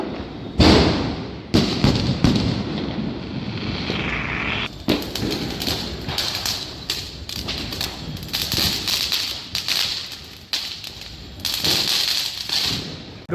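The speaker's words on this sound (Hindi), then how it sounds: "अभी पटाखे जलेंगे तो दिखाता हूँ।" Firecrackers burst over Bhopal during Diwali, a rapid irregular string of sharp cracks and booms from a rooftop vantage, some close and loud, others farther off, with no talk over them.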